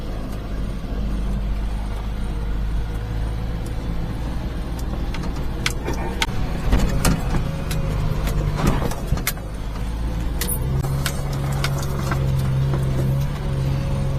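A mini-truck drives along a muddy road, its engine a steady low drone throughout with some rattling and clunking over bumps, close and continuous with no talking.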